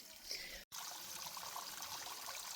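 Water trickles and splashes steadily from an outdoor spigot, faint and close, with a brief dropout partway through.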